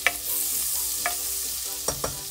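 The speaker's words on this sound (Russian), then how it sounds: "Сначала кладем сливочное масло." Butter sizzling in a frying pan before onion goes in for Turkish ezogelin soup: a steady, soft frying hiss with a few light clinks of utensils against the pan, no voices.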